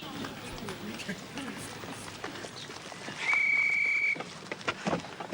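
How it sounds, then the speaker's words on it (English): A shrill, steady whistle blast lasting about a second, sounding over background chatter and crowd noise. "that was the first whistle"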